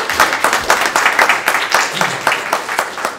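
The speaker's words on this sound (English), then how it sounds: "We can clap." A room of attendees at a social care discussion event claps together, a dense, steady patter of many hands lasting a few seconds, with some voices mixed in.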